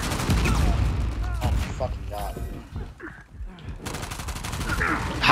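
Bursts of gunfire from a shooter video game during a competitive playoff match, rapid shots cracking in clusters at the start and end with quieter gaps between, heard alongside other game sounds.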